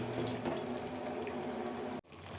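Chicken for a Madhampatti Rangaraj style chicken varuval simmers in about half a glass of water, giving a steady, close bubbling hiss that runs continuously before cutting off abruptly near the end.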